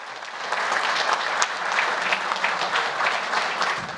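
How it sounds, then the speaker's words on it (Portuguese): Steady applause from an audience, many hands clapping densely and continuously at moderate loudness with no voices over it. "Aplausos."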